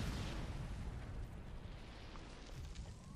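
Grenade explosion in the online shooter Ghost Recon Online during a competitive ESL team match: a broad, rumbling blast with a sustained roar and debris-like crackle that slowly fades, fairly quiet overall with no talk over it.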